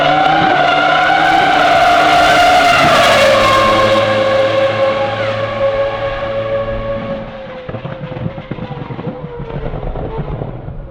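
Old Formula 1 race cars at Circuit of the Americas go by with a loud, high-pitched engine wail. The strong tone drops in pitch as a car passes and then fades into the distance, with no speech.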